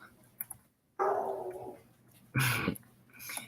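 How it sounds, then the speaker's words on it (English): A dog barks twice at close range, a sharp bark followed by a louder burst, with a fainter yelp at the end and quiet room noise between. "There goes my dog"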